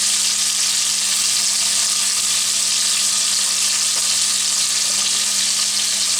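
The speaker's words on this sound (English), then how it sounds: "get a nice little sear on that side too" Tri tip searing in a cast iron Dutch oven, a loud, steady sizzle and crackle of meat in hot fat that runs without a break and with no voices.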